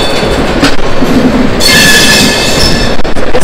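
Sampark Kranti Express passenger train rolling out on its Tirupati to Delhi run, a steady loud rumble of wheels on rails with a sustained metallic squeal rising partway through, no talking.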